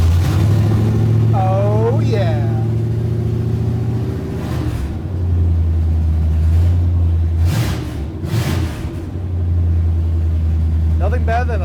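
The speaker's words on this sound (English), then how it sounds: "So we can hear that loud, obnoxious 350 Chevy open headers." A 350 Chevy V8 in a 1967-1972 Chevy C10 pickup, fitted with loud open ceramic Tri-Y headers, starts and settles into a deep, steady rumble. A couple of brief revs rise above it while someone speaks over the engine.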